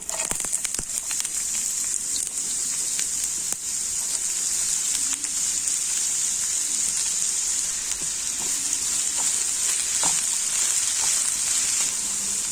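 Onions frying in coconut oil, for a Kerala-style small egg roast, give a steady, close hissing sizzle that runs unbroken throughout with a few faint clicks and no talking.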